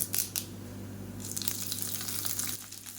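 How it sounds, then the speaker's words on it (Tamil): Mustard seeds, urad dal and curry leaves crackle and sizzle in hot oil, a steady close frying hiss with a few sharp pops at the start and a brighter burst midway, with no voices over it. "எண்ணெய் சூடானதும் ஒரு டீஸ்பூன் போல் அதாவது ஒரு டீஸ்பூனுக்கும் கம்மியாகவே கடுகு சேர்த்திங்கன்னா போதும்"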